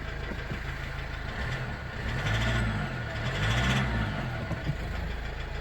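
An older diesel car with 128,000 miles idles with a clattery knock, a steady low rumble that swells slightly midway, moderately close with no talk over it.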